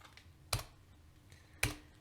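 Two distinct keystrokes on a computer keyboard, crisp and close, spaced about a second apart in an otherwise quiet room.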